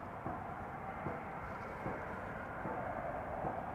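A KLM Boeing 777-200 arrives from New York at Amsterdam Schiphol, giving a steady distant jet rumble with faint periodic thumps and no speech.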